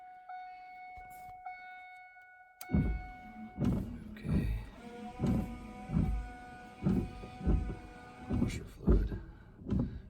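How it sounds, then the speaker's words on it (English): A 2000s Chevy Venture's windshield washer fluid pump runs after a wiper pulse board repair: a steady rhythmic thumping with a faint whirring pump, pulsing roughly every half second after a short electronic tone and a sharp click. "washer fluid pumps. Sounds kind of sick."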